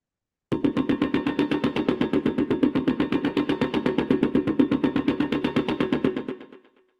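A looped, intense rhythmic pulse from a film score repeats rapidly and evenly for about six seconds, loud and close, with echo and reverb, then stops and leaves a brief decaying tail.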